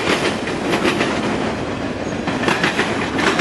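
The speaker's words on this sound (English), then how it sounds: "And that's the end of the train right there." Freight train passing close by on rails, the tail end of the train rolling past with a steady loud roar and rhythmic clickety-clack of wheels over rail joints, no voices.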